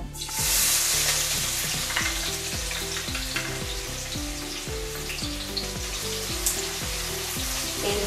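Onions crackle and sizzle loudly in hot oil at the start of a Maharashtrian-style prawn fry, a dense continuous frying hiss with rhythmic scraping as they are stirred.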